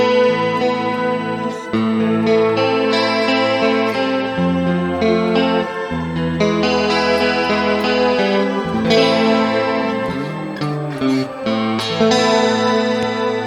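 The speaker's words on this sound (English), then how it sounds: "Also shimmer reverb" Clean electric guitar played through a Boss GT-1000 multi-effects unit set to shimmer reverb, sustained chords and arpeggiated notes with a bright, lush octave-up wash and chorus-like width, loud and alone throughout.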